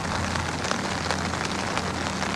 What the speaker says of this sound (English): but started to rain, so I've only got my gear